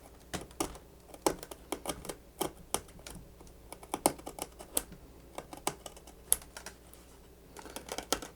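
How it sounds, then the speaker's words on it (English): An X-Acto knife chips chunks out of foam while a Freewing Stinger 64 sport jet is being assembled, making a close, rapid series of sharp little clicks and snaps, irregular and continuous with no talk. "I've got an X-Acto knife here, and I'm going to start chipping away"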